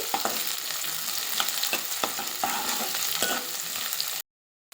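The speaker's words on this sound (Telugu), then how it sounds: "ఉల్లిగడ్డలు, కట్ చేసిన పచ్చిమిర్చి వేసి వేయించుకోవాలండి." Onions and cut green chillies fry in three spoons of hot oil in a pot, making a steady, loud, close sizzle with occasional stirring scrapes before it cuts off abruptly near the end.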